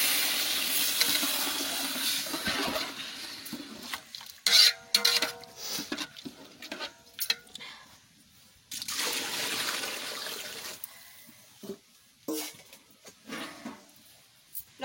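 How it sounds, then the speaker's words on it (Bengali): Water poured into a cooking pot in a home kitchen, a running, splashing pour with pauses and small clinks of handling, fairly close and moderately quiet, with no talking. "এবারে জল দিয়ে দিচ্ছি।"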